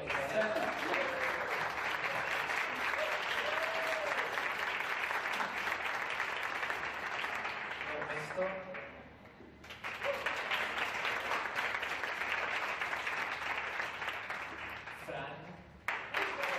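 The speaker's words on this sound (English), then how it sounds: "please give a big applause to Miki and Venda" Long, full audience applause for the dancers and crew at a meet-and-greet after Miki's first rehearsal, steady crowd clapping that briefly dips and then swells again, with occasional voices and cheers mixed in.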